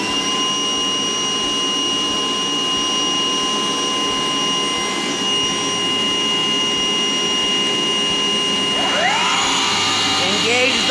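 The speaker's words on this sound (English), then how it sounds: "We'll engage the suction." A sawdust suction unit on a saw switches on and runs as a loud, steady whooshing roar with a high tonal whine, close by and continuous throughout.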